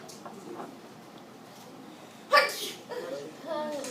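A single sharp sneeze bursts out in a classroom during an algebra lesson, sudden and fairly close, followed by brief quiet voices.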